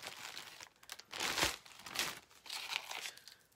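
A plastic bag crinkles and rustles in several bursts, loudest around the middle, close up and with no talking.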